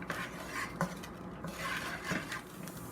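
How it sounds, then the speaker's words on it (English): Onions sweating in a pan as they are stirred, giving faint, close scraping and rubbing strokes in an uneven rhythm over a low sizzle. "you start mixing it around and letting those onions sweat just a little bit"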